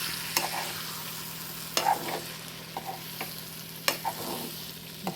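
Masala paste stirred in a frying pan for a paneer and green peas curry: scattered spoon scrapes and clinks come at irregular intervals over a low, steady pan hum, close up with no talking.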